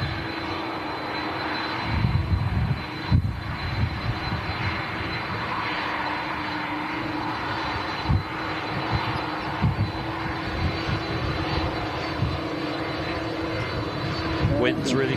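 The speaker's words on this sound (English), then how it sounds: "That noise you can hear is the Bridgetown-bound Aer Lingus A330 on the taxi out now." An Aer Lingus Airbus A330 jet taxiing out at Manchester airport, a steady far-off engine roar with a constant whine, running under talk throughout.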